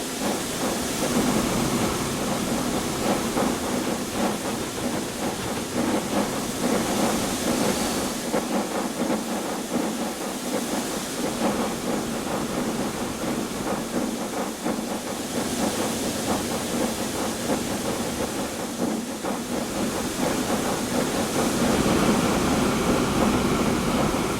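A video game train in Transport Fever 2 rumbles along steadily with a continuous hiss and faint rhythmic clatter, a loud, unbroken running sound with no voices.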